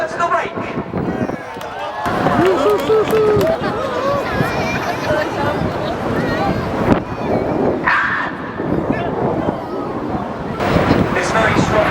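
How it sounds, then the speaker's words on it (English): Strong wind gusting loudly and steadily across the microphone at a seaside air show during an aerobatic display, a broad continuous rush with bursts, mixed with crowd noise and distant engine sound. "This very strong wind."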